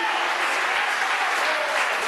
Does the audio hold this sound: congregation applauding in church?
yes